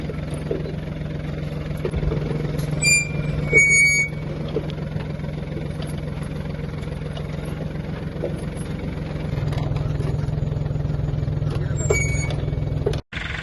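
A tractor engine runs steadily in a field while planting turmeric, forming beds and dropping seed, a continuous close engine drone with brief higher mechanical squeals and clanks, rising slightly in load partway through.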